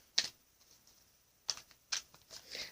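A Sacred Rebels oracle card deck is shuffled in a few quick, crisp riffling bursts separated by quiet pauses. No one speaks.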